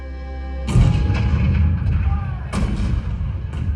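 Heavy cannon blasts boom out, a deep rumbling report followed by more booming shots at a distance, loud and reverberant.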